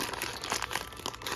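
Crinkling of a sealed plastic bag holding a custom toy figure as it is handled and opened, a dense, close crackle that runs steadily throughout with no talk.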